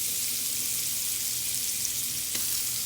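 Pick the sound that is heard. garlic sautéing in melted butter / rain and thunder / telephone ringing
garlic sautéing in melted butter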